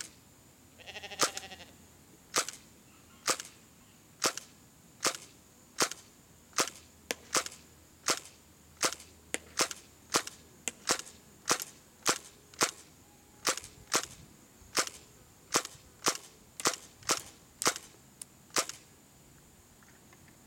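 HFC T77 gas blowback airsoft gun firing semi-automatic at an 80-foot target, about twenty-six sharp, evenly spaced cracking shots over roughly eighteen seconds, each a loud snappy pop with a short hiss, no talking.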